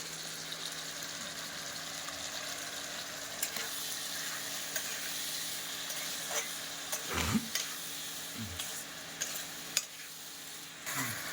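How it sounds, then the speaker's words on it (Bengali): Steady frying sizzle of tomato in a pan, with occasional stirring scrapes and clinks. No talking. "টমেটোটা একটু ভেজে নেব।"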